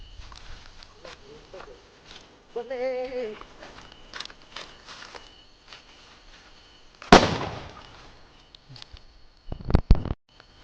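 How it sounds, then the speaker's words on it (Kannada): Firecrackers go off in sharp bursts in a crop field to scare off wild boar, one loud crack midway and a pair of quick bangs near the end, with scattered outdoor noise and brief voices between. "ಈಗ ಸ್ವಲ್ಪ ಪಟಾಕಿ ಹೊಡೆಯೋಣ ಬನ್ನಿ"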